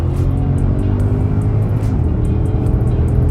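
A Porsche Panamera Turbo engine pulls under hard acceleration, a loud, sustained, close-up roar heard from inside the car with a dense low rumble throughout.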